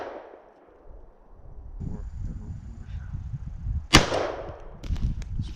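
A 12 gauge semi-automatic shotgun fires one sharp, loud blast that rings out and decays over a couple of seconds, with outdoor rumble and faint handling noise before and after.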